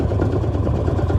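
A 1955 Lanz Bulldog D2402 tractor engine runs steadily at idle, a dense low rumble with fast regular pulsing and no voices over it.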